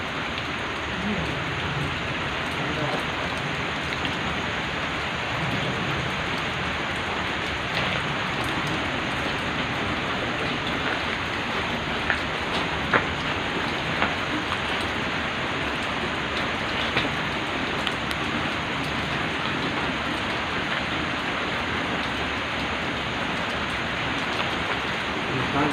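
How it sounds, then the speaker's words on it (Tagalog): Heavy rain pours steadily for a long stretch at a public cemetery, a thick unbroken hiss of drops hitting surfaces, with occasional louder patters. "Tingnan mo idol, no? Yung ulan ng lakas"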